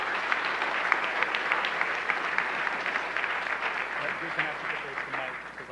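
An audience at a Chamber of Commerce economic forum claps after a tourism industry presentation, producing moderate, even applause with a faint murmur of voices mixed in.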